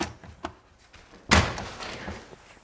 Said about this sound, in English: Close the door again.